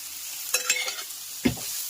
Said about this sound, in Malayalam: ഇതിലേക്ക് ലേശം ഉപ്പും കൂടി ഇട്ടിട്ട് ഇതൊന്ന് ആദ്യം ഒന്ന് പച്ചച്ചവ മാറുന്നത് വരെ ഇതുപോലെ തന്നെ ഒന്ന് വഴറ്റി എടുക്കണം